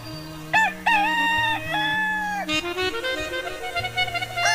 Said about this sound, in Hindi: अर्धरात्रि को ही मुर्गे की ध्वनि उच्चारित की।